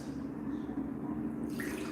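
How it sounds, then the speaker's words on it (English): Pre-made fruity punch of white cranberry, strawberry and orange juice pours into a glass as a steady, continuous liquid rush, close up and unbroken for the whole stretch, with no talking. "what I'm going to do is just pour my pre-made punch into my glass"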